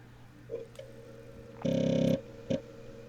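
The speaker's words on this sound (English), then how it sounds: "No, that was the floppy drive." A computer floppy disk drive runs: a soft click, then a half-second buzzing, grinding seek burst, then another click, all close and alone over a low background hum.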